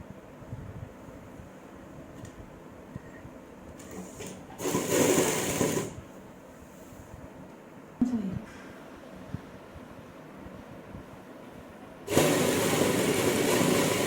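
A sewing machine stitches an umbrella frock in short bursts, louder runs alternating with quieter stretches and pauses, close and clear against a low room background.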